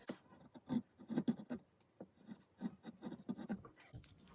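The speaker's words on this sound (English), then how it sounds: "now I'm going to take my sharpest tool, which happens to be this chisel" Sharp chisel shaving basswood while carving a lipless crankbait lure, heard as close, irregular short scraping and rasping strokes in quick bursts with brief pauses.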